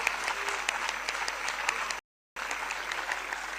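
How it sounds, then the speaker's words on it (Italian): A conference audience of new entrepreneurs gives sustained applause, dense overlapping clapping with a few sharper individual claps, steady and moderately loud, cut by a brief gap of silence partway through. "Gli facciamo un grande applauso a questi."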